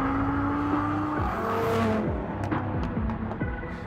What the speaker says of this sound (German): Ist Bedis Audi RS3 dank seiner Stärke auf der Geraden trotzdem eine gute Zeit gefahren?